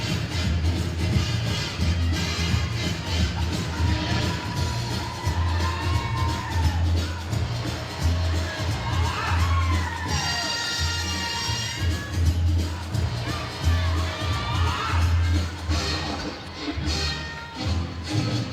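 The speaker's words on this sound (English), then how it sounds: "You can tell the crowd's even getting into it." Arena crowd at a college gymnastics meet, Kentucky competing at Arkansas, cheering and whooping steadily through a routine, with high shouts and whistles rising over a dense constant roar.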